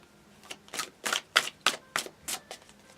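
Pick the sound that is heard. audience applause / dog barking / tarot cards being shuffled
tarot cards being shuffled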